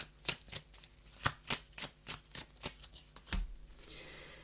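Tarot cards being shuffled by hand, a quick run of crisp riffling flicks and slaps, close and fairly quiet, with no voices.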